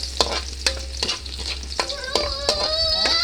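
Garlic sautés in hot oil with a bright, continuous sizzle, while a utensil stirring in the pan adds a run of sharp scraping clicks at a brisk, uneven rhythm.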